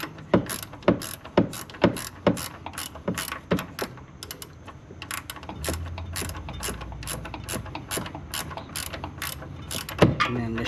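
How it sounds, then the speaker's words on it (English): A hand ratchet turns a bolt off a shock absorber shaft, a run of quick clicking strokes up close, a pause with low background rumble, then another sharp click. "And turn the bolt out. Turn the bolt off the shaft."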